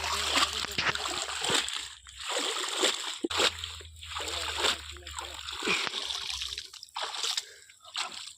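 Monosex tilapia, 22 days old, splash and thrash as a cast net hauls them from a pond; bursts of wet splatter and dripping come in several waves, with voices talking over them.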